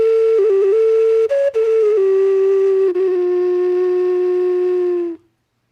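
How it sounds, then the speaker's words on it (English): A potato-shaped ocarina plays a pure, breathy, flute-like melody with a few quick note changes, then settles into one long held tone before stopping, loud and close. "It's an ocarina."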